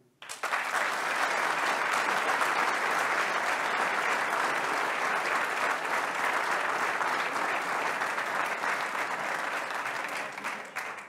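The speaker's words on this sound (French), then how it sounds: "Applaudissements." Sustained, loud applause from a large audience at a mayor's New Year address in Port-Saint-Louis-du-Rhône, steady and dense for about eleven seconds without a break.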